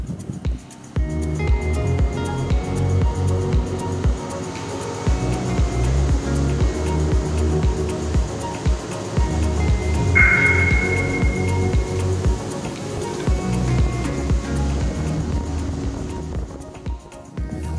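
Boat accelerating onto plane with the Seakeeper Ride system off and engine trim held constant: a sustained loud engine drone with rushing water and hull noise, close, for nearly the whole stretch.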